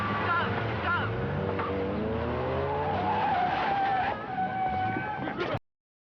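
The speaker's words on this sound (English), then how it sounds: "Black Merc at the High Street end. Going like the crackers." A black Mercedes speeds through a high street, engine roaring continuously with tires squealing and skidding in rising, wavering tones, loud and near, while voices talk over it before it cuts off abruptly.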